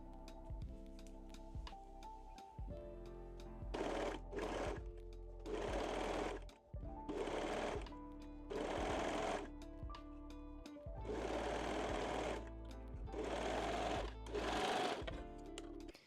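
A sewing machine stitches the back center seam of lace Brazilian panties. The motor runs in several short bursts of steady whirring, separated by pauses and quieter hum, heard close and alone.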